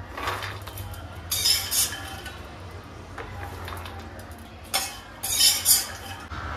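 Roasted dry fruits scooped off a pan onto a plate, giving a few bursts of clinking, scraping utensil sounds with quiet gaps between them.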